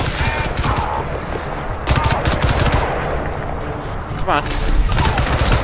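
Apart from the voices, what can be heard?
gunfire from the video game Crysis 2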